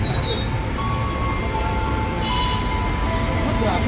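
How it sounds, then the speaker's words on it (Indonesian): A KRL commuter electric train pulls into the platform at Universitas Pancasila station: a steady, loud rumble of wheels and traction with thin whining tones, running unbroken and close throughout. "Jalur 1 dari utara masuk tujuan Bogor rangkaian 8 kereta."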